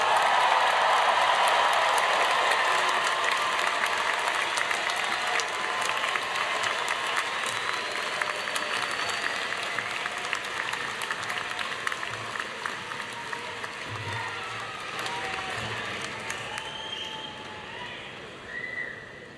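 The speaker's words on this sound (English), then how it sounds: "let's have one more round of applause for all of our graduates." Sustained applause from a large commencement audience honoring graduates at Drexel University's 2014 ceremony, dense and steady clapping that fills the hall and slowly tapers toward the end.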